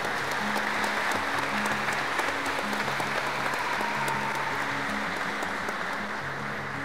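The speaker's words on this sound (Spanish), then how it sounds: "A los novios, un aplauso para Carlos y Arcelia." Guests at a church wedding ceremony applaud the bride and groom with steady, dense clapping that fills the room throughout, over a low sustained musical tone.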